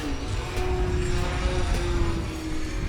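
Electric motor and propeller of an E-flite Ultra Stick 1.1m RC plane held in a hover, a steady loud whine with a sustained tone that shifts slightly as the throttle is worked, continuous throughout.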